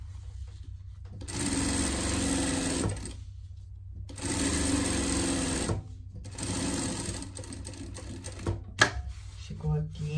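Sewing machine running a safety seam on denim for a pet vest, in three long loud steady stitching bursts separated by brief pauses, then some clicks and handling noise.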